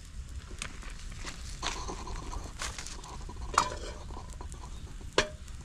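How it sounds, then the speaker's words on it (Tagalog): Garlic sautéing in a pan for a home-cooked meal abroad, a steady low sizzle with occasional clinks and stirring scrapes, close and moderately loud. "Magigisa na tayo."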